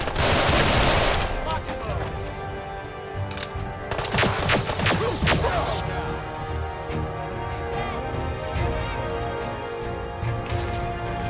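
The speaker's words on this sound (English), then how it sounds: "More gunfire." Video game gunfire cracks in volleys, a loud rapid spray early and another flurry midway, then scattered distant shots under a steady background hum.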